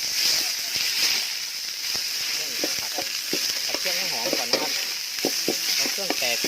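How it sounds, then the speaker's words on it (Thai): Curry paste for a field-rat curry hits hot oil in a pan and sizzles steadily, with scraping stir-fry strokes while someone talks over the cooking. "มันร้อนเอาเครื่องลงผัดครับ"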